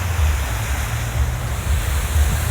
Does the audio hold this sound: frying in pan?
no